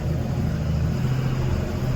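A car engine runs steadily as the vehicle is driven out near a murrum quarry work site, a continuous low rumble heard up close with no talk over it.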